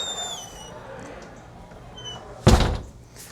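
A back door of a luxury home, leading to the pool area, thuds shut with one loud, sharp slam near the end, after quiet shuffling and faint tonal sounds.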